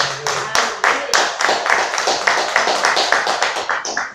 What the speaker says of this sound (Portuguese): Podemos aplaudir ao Senhor Jesus?